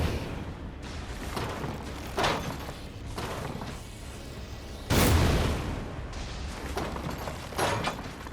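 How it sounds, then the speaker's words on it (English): Jar cannon firing in a player-versus-player video game: several heavy booming blasts, with one loud burst standing out midway, each followed by a rumbling tail over a low background. "jar cannon"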